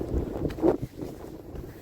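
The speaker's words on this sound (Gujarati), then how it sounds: "અત્યારે પવન બહુ છે" Strong wind blowing outdoors near the water, buffeting the microphone in low rumbling gusts over a short stretch, close and fairly loud.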